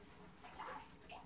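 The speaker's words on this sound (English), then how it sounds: "And let me fill the water." Water runs from a tap into a bathtub to wash a dog, a soft, quiet steady gush and splash without any talking.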